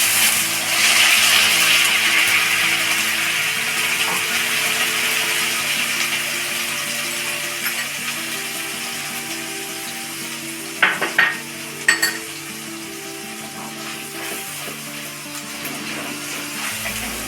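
Onion paste fries in hot oil for chole bhature, a continuous bright sizzle with occasional metal clinks of a spoon stirring against the pan partway through.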